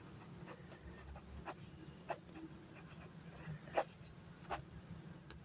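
A pen writes by hand on paper while a math problem is worked out, soft scratchy strokes and short taps in an irregular rhythm, quiet and close with no talking.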